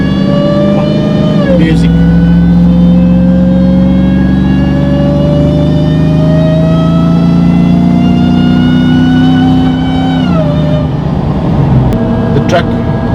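A Hellcat-powered RAM 1500 pickup's supercharged engine holds a steady high whine that rises in pitch, breaks as it shifts, then climbs again, loud and close, with brief talk inside the cab.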